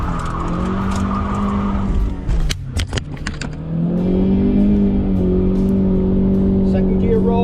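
A car rolls in second gear through a muddy junkyard, a steady engine drone that drops away after a brief burst of squeals and clatter, then returns louder and revving, with a voice in the clip.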